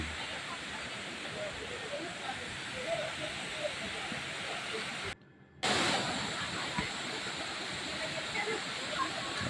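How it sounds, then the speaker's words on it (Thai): Steady broadband rush of Ngao Waterfall in Ranong, Thailand, pouring from the mountain down a cliff face, continuous and fairly distant, with a brief near-silent gap partway through and no talk. "น้ำไหลจากภูเขาถุงมาตามหน้าผา มีความสวยงามของ น้ำตกหาว จังหวัดระนอง"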